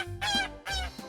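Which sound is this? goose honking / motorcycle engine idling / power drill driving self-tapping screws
goose honking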